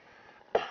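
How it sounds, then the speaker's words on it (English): A single close, sharp cough follows a quiet hum, then a second shorter cough right after. "Sorry, I've got the coughs."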